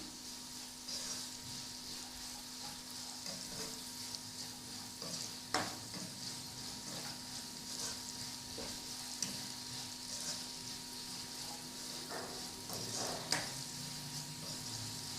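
Rice frying in a pan with raisins and dry fruits for Kabuli pulao, a steady soft sizzle with occasional stirring scrapes and clicks, fairly quiet and without talk.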